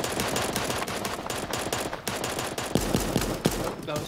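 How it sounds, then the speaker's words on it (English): Rapid bursts of video game gunfire aimed at trees, dense repeated shots packed close together and loud throughout, with a few sharper, heavier reports near the end. "That was just me shooting at trees."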